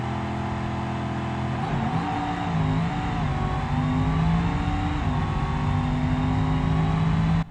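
Moonhawk nitrous drag car in a racing video game, its engine revving up in a loud, rising, strained drone that climbs through gear changes and holds a high sustained pitch, close and without talking.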